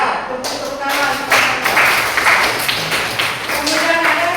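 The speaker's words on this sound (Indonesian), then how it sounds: "tepuk tangan" A classroom of students clapping hands together, a ragged, moderately loud patter of claps lasting a few seconds with voices talking over it.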